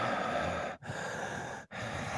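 A voice imitates heavy breathing with soft, airy breaths in two long drawn-out strokes separated by brief pauses, quiet and close.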